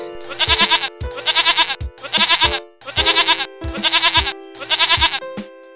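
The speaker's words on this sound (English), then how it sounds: "Goat." A goat bleats six times in a regular rhythm, each wavering call loud and close, with a faint background tone continuing underneath.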